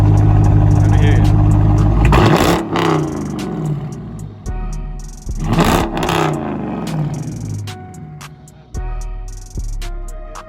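Deep rumbling exhaust roars from a 2020 widebody Dodge Challenger Scat Pack with quad tips, swelling in loud revving bursts up close, with people talking around it.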